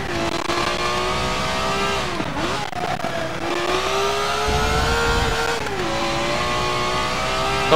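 Race car engine in Forza Motorsport 7 at Laguna Seca, a loud sustained drone with harmonic tones rising and falling through shifts and corners, steady and close throughout with no talk.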